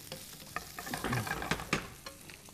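Food frying and being stirred in a pan with olive oil while making spaghetti carbonara without cream: brief crackling sizzle and scraping clicks close by, quiet, with no talking.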